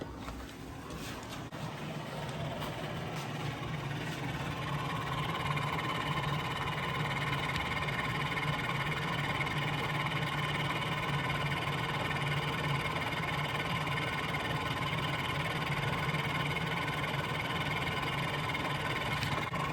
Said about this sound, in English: first thing we're actually gonna do is connect this and run the fuel pump and check for any leaks